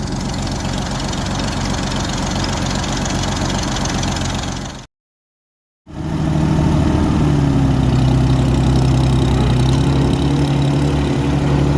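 A 1937 Oliver Hart Parr 70 tractor engine, run for the first time after sitting, idles with a heavy, low, steady chug, interrupted by a brief cut before it carries on.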